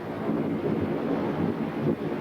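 Cold morning wind blowing on a day out touring in China, a steady rumbling buffet against the microphone with gusty swells and no talking.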